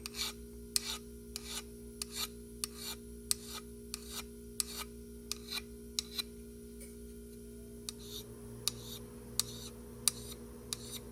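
A needle file works the thrust bearing surface of an engine crank in steady, regular rasping strokes, about a dozen close, distinct scrapes over a low constant hum.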